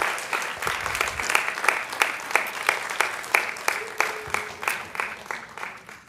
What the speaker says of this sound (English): May we please have a huge round of applause for our schools, our wonderful students out here.